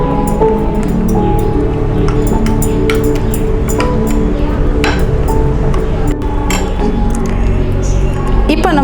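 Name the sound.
mixing flaxseed dosa batter in a bowl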